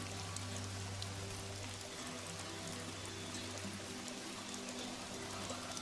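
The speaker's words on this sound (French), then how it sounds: "Une pluie fine et glaciale engloutit le paysage." Fine icy rain in the Hawkmoon game hisses down as a steady, even wash of soft patter with a low hum underneath, continuous and uneventful throughout.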